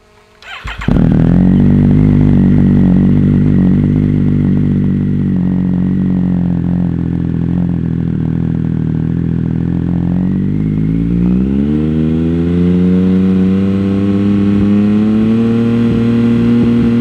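A motorcycle with its exhaust baffle removed starts with a sharp burst, then settles into a loud, throbbing idle. Near the end it revs up and holds a rising, deeper roar, close and continuous throughout.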